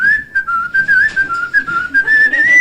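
Steady tuneful whistling carries a melody through a folk song at a live folk club, loud and continuous with small breath gaps and no talk over it.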